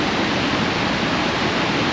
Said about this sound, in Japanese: これは本当にすごい滝だ。